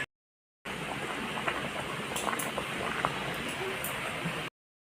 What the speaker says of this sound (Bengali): এটাতে আমি আলুটা সিদ্ধ করে নেব আলাদা